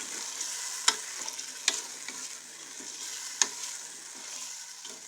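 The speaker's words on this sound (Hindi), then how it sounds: "अपनी जो लोबी है वो हमने ऐड कर देनी है। तो यहाँ पे अच्छे से मिक्स कर दें।" Kidney beans (lobia) are stirred into a hot pan for daal lobia. Soft, steady sizzling runs under the stirring, with a few sharp spoon taps against the metal rim.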